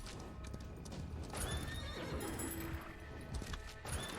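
A horse in the video game Far Far West, with clip-clopping hooves and a whinny over a busy game soundscape, moderately close, with no speech.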